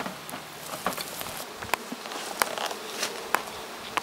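Honey bees buzz around an opened hive during a gentle honey harvest, a soft steady drone close by, dotted with quick light ticks and taps, with no voices.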